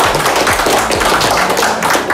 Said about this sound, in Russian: Хлопаем громко-громко!